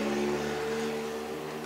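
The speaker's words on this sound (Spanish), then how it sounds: "Esperemos que se vaya el carro porque hace mucho ruido." A car passing on a street makes a loud, steady engine drone with a strong hum, holding near and fairly constant before easing slightly toward the end.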